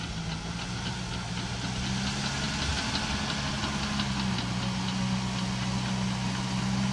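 A heavy diesel Cat bulldozer engine runs steadily at a low, even rumble, close by, with a faint rhythmic knock and no talking.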